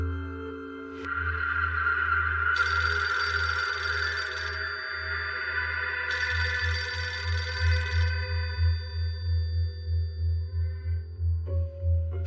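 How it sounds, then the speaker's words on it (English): A telephone rings repeatedly in a steady electronic pattern, loud and close, continuing for several seconds with a pulsing rhythm and no talk over it. "The phone rang."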